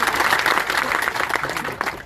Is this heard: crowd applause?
yes